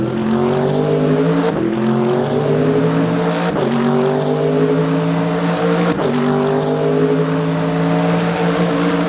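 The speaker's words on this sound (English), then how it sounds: "once we hit 4th gear the brunt of the V8 engine noise takes over and floods the cockpit" A loud V8 race car engine in the game Le Mans Ultimate drones close by, pitch climbing steadily through each gear before dropping sharply at every shift, three shifts in all.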